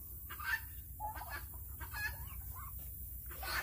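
Chickens in a farm yard in Texas give several soft clucks and short calls, spaced irregularly over a low steady background hum, moderately near and with no one talking.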